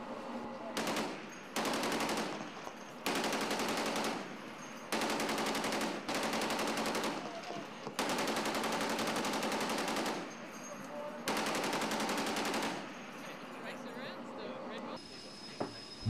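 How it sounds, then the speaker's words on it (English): Bursts of heavy naval machine gun fire from .50 and .40 caliber guns aboard a Royal Australian Navy ship, several sustained volleys separated by brief pauses, loud and close, with a voice talking over part of it. ".50 and .40 caliber guns"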